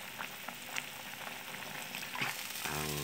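Dried salted fish frying in a pan with onion and garlic, a steady crackling sizzle with scattered pops and a brief stirring clatter near the end.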